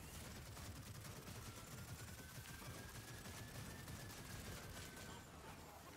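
Pistol fire in the video game Gears of War 4 rattles in a dense, steady burst of rapid shots that lasts the whole stretch without pause, loud and close, with no voices over it.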